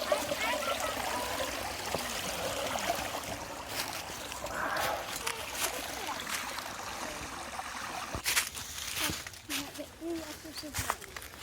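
Creek water flows and trickles over rocks along an urban hiking trail at Island Ford, a steady close wash of running water with footsteps and brief voices now and then.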